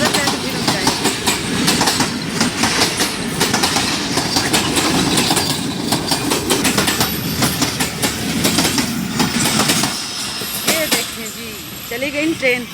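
A train rolls past nearby in a village setting, a loud continuous rumble with rhythmic clickety-clack of wheels over rail joints that eases off toward the end, with voices faintly audible underneath.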